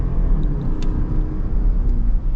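A 2024 Dodge Durango R/T or Jeep Grand Cherokee 4xe plug-in hybrid accelerates, heard from inside as a steady, loud, low rumble with a faint whir, lasting only a couple of seconds.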